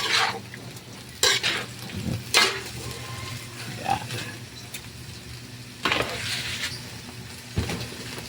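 Spicy chicken intestine adobo being stirred in a pan, with a steady sizzle of frying underneath and several scraping clinks of a utensil against the metal at irregular intervals, close and moderately loud, with no talking.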